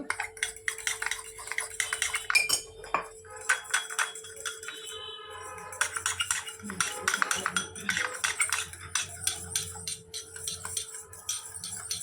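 Chicken 65 is stirred and mixed in a bowl, with a metal spoon clinking and scraping against the side in irregular bursts of taps, fairly close, over a low steady hum.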